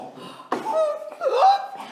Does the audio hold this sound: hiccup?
yes